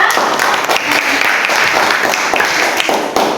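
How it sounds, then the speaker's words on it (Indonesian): Applause from a school class after a lesson, a steady wash of many hands clapping close by that fills the whole short stretch without pause. "Tepuk tangan untuk kalian semua"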